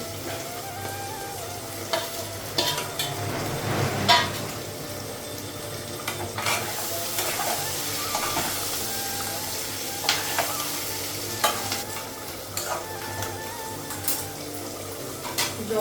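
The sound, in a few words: frying and stirring with egg in a pan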